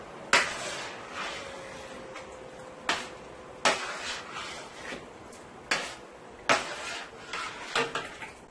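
Rice with coconut milk being tossed in a cooking pot, heard as a series of distinct metallic clanks and scrapes of a utensil against the pot, spaced irregularly about a second apart, fairly close and with no talking.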